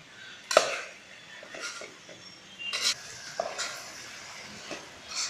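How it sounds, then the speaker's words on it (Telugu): A spoon scraping and clinking against a metal pot while stirring flat bean (chikkuduKaya) curry at home, in irregular strokes with faint sizzling, no talking. "ఇలా బాగా ఉడికే వరకు కలపగలను"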